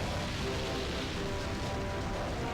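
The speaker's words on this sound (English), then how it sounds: "I'm gonna put up a Rain Dance so it'll go away" Steady dense rain from the Rain Dance move in Pokemon Colosseum, a continuous even hiss that stays at one level throughout with no pauses or voices.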